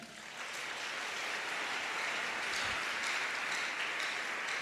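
A church congregation applauds the Lord, a steady, dense patter of many hands clapping that swells slightly after the first half second and holds at a moderate level throughout.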